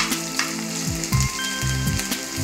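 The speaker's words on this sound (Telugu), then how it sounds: "అల్లం వెల్లుల్లి పేస్ట్ వేసుకొని అది వేగాక" Ginger garlic paste sizzles and fries steadily in a pan for a village-style drumstick fry, with a few scraping stirring strokes and tonal clinks over the continuous crackle, fairly close and no talking.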